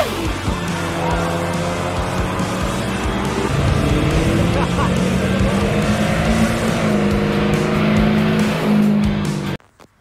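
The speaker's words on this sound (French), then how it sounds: "des V8, gros moteur." A V8 car engine in Australian car culture, such as a Ford Falcon or XR8, roars steadily and loudly, revving higher midway with tire noise, close by for about nine seconds before cutting off.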